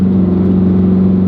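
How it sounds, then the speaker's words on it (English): A 2025 Aston Martin Vantage engine with the sport exhaust open holds a steady, loud, deep drone throughout, close to the car, with no talk. "Sport exhaust already goes open when you put it in Sport Plus."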